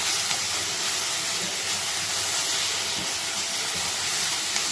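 Chole masala frying in hot oil in a pan, a loud, steady sizzling hiss that runs without a break, close up and with no one speaking.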